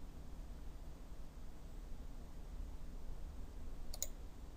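Mouse clicks sound while selecting views in Autodesk Vault 2016 CAD software, a faint pair of quick clicks near the end against a quiet hiss.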